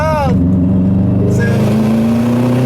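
A Subaru WRX with an external wastegate that dumps straight out by the passenger footwell, heard as a very loud, close, droning exhaust roar under sustained acceleration that rises steadily in pitch, with a brief whistling burst at the start.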